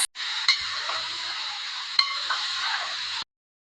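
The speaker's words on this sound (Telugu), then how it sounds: "మటన్ అంతా వేసుకొని మంచిగా మిక్స్ చేసుకోవాలి" Mutton being stirred with turmeric in a pot for a Diwali mutton curry gives a steady scraping, mixing noise with a couple of sharp clinks of a spoon against the metal, close and alone, ending abruptly.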